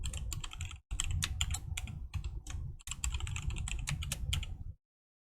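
Rapid clattering keystrokes on a computer keyboard as a new password is entered, close and steady with two brief pauses, then stopping.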